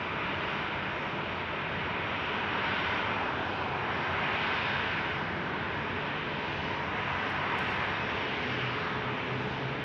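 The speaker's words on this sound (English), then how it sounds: "American Airlines is arriving." An American Airlines airliner arriving at Phoenix Sky Harbor Airport gives a steady, broad jet roar that holds loud and constant throughout, with no voices.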